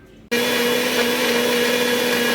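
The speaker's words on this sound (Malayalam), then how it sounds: "ഇനി ഇതെല്ലാം കൂടി നമുക്ക് മിക്സിയിൽ അടിച്ച് എടുക്കാം" A kitchen mixer grinder blends aloe vera pieces and herbs for a herbal hair oil, switching on abruptly after a short moment of quiet and then holding a loud, steady, high-pitched motor whine with a grinding rush throughout.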